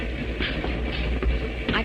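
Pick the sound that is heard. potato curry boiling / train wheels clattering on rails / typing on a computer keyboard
train wheels clattering on rails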